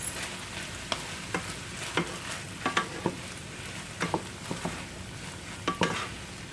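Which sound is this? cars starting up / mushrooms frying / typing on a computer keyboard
mushrooms frying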